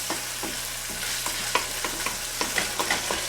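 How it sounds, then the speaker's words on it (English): Ground beef browning with spices in a pan, a continuous sizzle punctuated by a spoon scraping and stirring every half second or so, close and clear. "we're going to cook this for 5 to 10 more minutes, which will mix in the spices nice and evenly and finish crisping up or browning the burger too"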